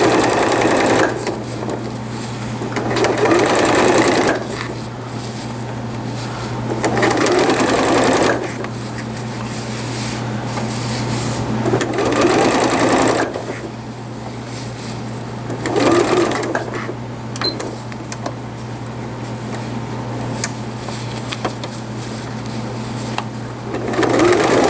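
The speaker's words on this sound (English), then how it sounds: "Do a back stitch here so that it's nice and secure." A sewing machine back stitches PUL fabric for cloth diapers, running in loud close bursts of rapid mechanical whirring that stop and start with short pauses between seams.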